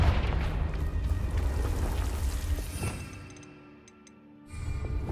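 A Confringo blasting curse goes off in Hogwarts Legacy as a loud, booming magical explosion with a broad roar that fades out over a few seconds, then a fresh rumble swells at the end.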